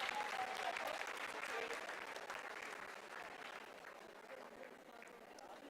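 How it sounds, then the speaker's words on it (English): Sustained applause from a mission control room full of people during the Chandrayaan-3 launch, steady clapping that slowly fades slightly, with some murmuring voices mixed in. "Lot of applause indicates that till now the performance has been nominal."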